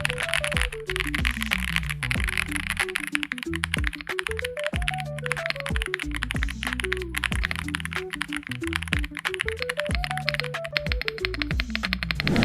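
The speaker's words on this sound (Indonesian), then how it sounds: "Switchnya pakai stereo floor yang kira-kira suaranya kayak gini." Typing on a Zeus 65 mechanical keyboard with stereo floor switches and thick PBT double-shot cherry-profile keycaps, a steady, close run of crisp key clacks under background music.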